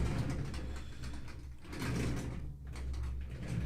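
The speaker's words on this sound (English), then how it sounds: "I'm looking in my magic drawer." A drawer is opened and rummaged through, giving steady sliding and rattling mechanical noises with small knocks of objects shifting inside, close and continuous, with no talk.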